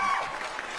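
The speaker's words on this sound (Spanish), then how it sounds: "Gabriel Pereira, un aplauso para él." An audience breaks into applause for a guest speaker, a short steady wash of clapping in a studio.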